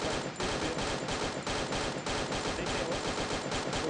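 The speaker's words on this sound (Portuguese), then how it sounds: "Tô dando tiro no pezinho." Dense, continuous automatic gunfire from the Counter-Strike video game, loud rapid bursts with almost no gaps, played alone without voices.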